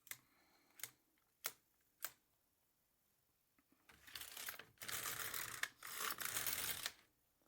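A knitting machine carriage works rows of tuck-stitch faux cables: a few sharp, close clicks, then long rasping swishes as it is pushed back and forth across the needle bed, with no voices.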